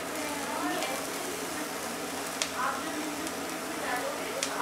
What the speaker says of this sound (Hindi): अब मैंने इसके अंदर जो है अपनी शिमला मिर्च भी डाल ली है, कैप्सिकम, और बस 1 मिनट और पकाऊंगी